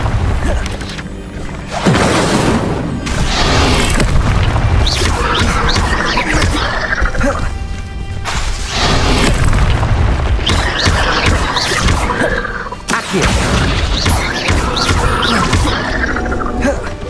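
Fire spell bursts cast repeatedly in the Hogwarts Legacy video game, loud blasting whooshes and booms in dense succession with brief gaps, layered over game sound effects.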